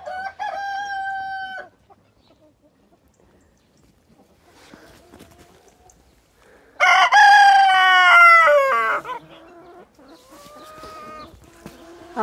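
Azur roosters and their hens in a pen: a loud, close rooster crow with rich harmonics dominates mid-clip, with a shorter crow at the start, softer clucks and calls scattered between, and a final crow beginning at the end.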